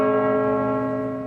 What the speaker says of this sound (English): Bells tolled up and down the country, mourning the death of the Queen.